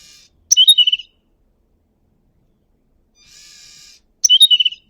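Bird chirps played back from a LEGO Essentials coding app: two short bursts of bright tweeting trills separated by a quieter chirping passage, clear with silence between.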